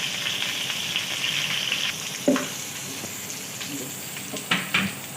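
Whole cumin seeds with green chillies sizzle in hot oil, a loud continuous crackling hiss with a few louder pops and spatters near the end, no voices.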